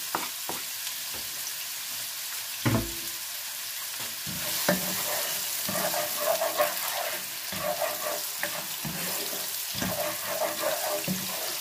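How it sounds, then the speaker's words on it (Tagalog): Onions saute in a pan for a chicken gizzard bopis dish, giving a moderate sizzle under intermittent scraping and knocking as they are stirred, with occasional faint clatter and no voices. "Palalambutin natin ng husto ang ating sibuyas, no?"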